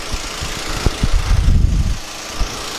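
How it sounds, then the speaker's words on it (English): A gas-powered air compressor's small engine runs steadily at a low rumble, close and fairly loud, with a few knocks and clunks of nearby work over it, during repair of a John Deere 200D track adjuster. "I am running a gas-powered compressor"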